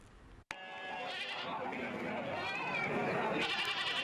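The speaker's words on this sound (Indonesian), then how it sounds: "Ribuan ekor kambing berbagai jenis dijajakan dan para penjual berlomba menawarkan ke pembeli" Goats and sheep bleat loudly and continuously amid a crowded livestock market in Karangpucung, Cilacap ahead of Eid al-Adha, with overlapping calls and background chatter from traders and buyers.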